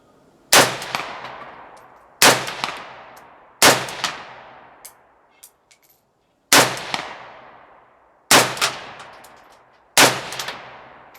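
A Romanian RPK MD64 rifle fires six single sharp, loud shots at irregular intervals, each with a long ringing outdoor echo decaying between them.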